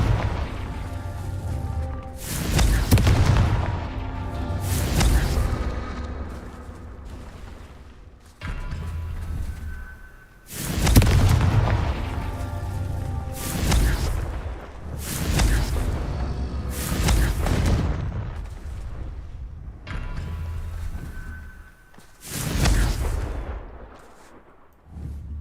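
Confringo fire-spell explosions at a shooting range in the Hogwarts Legacy video game: about five heavy booming blasts in sequence, each bursting loudly and then fading into a long rumbling tail.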